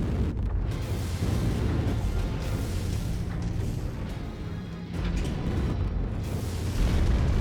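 A target mech explodes in the MechWarrior 5 video game. A dense, continuous rumble of booming blasts and eruptions rolls on throughout, with brief lulls and surges.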